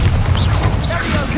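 A Bombarda blasting spell goes off in Hogwarts Legacy, a short, close, loud explosive boom with a heavy low-end thump.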